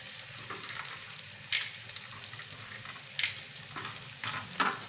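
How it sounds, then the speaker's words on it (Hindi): Radish and potatoes fry in a pan with carom and cumin seeds, a steady broad sizzle with a few sharper crackles and stirring scrapes, close and fairly quiet, with no voices. "अब दोनों को फ्राई करेंगे पहले, मूली और आलू फ्राई करेंगे।"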